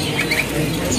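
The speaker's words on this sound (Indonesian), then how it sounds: "Ini untuk stoknya dari burung flamboyan." Small flamboyan Jawa birds chirp in quick, bright bursts at a bird market kiosk, busy high calls over a dense murmur of stall background noise.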